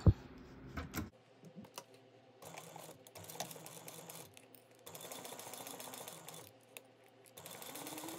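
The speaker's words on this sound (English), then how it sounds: "we're going to sew this at a 3/8 inch seam allowance" A sewing machine stitches a 3/8 inch seam in quiet bursts, running in short stretches with pauses between, faint and close.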